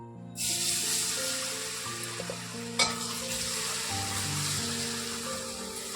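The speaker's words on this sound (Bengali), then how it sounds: "আমি তেলের মধ্যে দিয়ে দিলাম এরকম" Raw potato French fries frying in hot oil give a steady, close sizzle throughout, with stirring and one brief utensil clatter midway.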